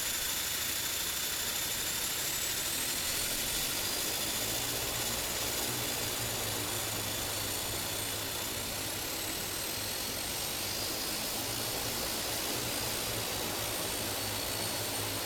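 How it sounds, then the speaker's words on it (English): Propeller aircraft engines at Tallahassee International Airport in the game Tower! Simulator 3, a loud, constant droning roar with a steady low throb running throughout and no speech. "Just love the sound of the prop planes"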